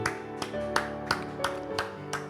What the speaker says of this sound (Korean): 하나님께 영광이 박수 올립니다